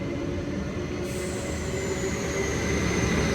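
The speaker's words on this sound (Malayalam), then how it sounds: "ട്രെയിൻ വരുന്നുണ്ട്" A train pulls into a railway station in Switzerland near Zurich, a steady loud rumble of wheels on rails with a thin squealing tone rising over it, continuous throughout with no voices.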